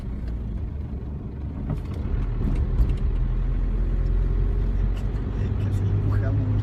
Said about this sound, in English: Traffic is pretty crazy.